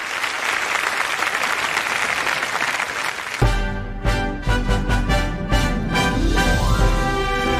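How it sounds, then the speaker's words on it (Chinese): Loud, dense applause fills a hall at a Chinese television drama awards gala for about three seconds, then gives way to music with a strong beat. "掌声有请"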